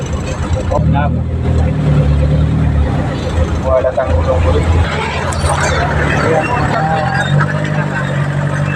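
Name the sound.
road traffic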